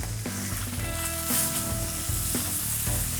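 Beef steak sizzles in butter in a pan, a steady loud frying hiss with crackling spatter and a few sharp clinks of a utensil against the pan.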